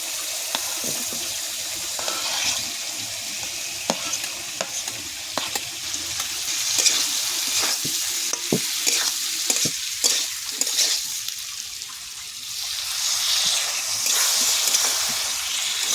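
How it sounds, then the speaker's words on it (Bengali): Potatoes and taro hiss and crackle in hot oil for a Bengali satin fish curry, with frequent sharp scrapes and clatters of stirring and some watery splashing, close and fairly loud. "এবার আলু আর কচু দিয়ে দেবো"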